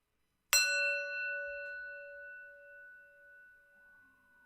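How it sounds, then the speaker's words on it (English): A single bell is struck once after a moment of silence, ringing out with a clear, sustained tone that slowly fades over several seconds in a quiet room. "We're going to warm up the bell there."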